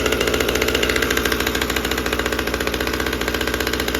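A Husqvarna T540 MK III chainsaw that has been acting up runs after a cold start, its small two-stroke engine chugging in a fast, steady, slightly uneven pulsing rhythm, close and loud throughout.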